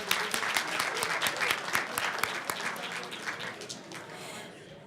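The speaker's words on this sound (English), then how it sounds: "Let's give them all a round of applause." Audience applause for new Board of Education members at a school district board reception, steady dense clapping that fades slightly toward the end.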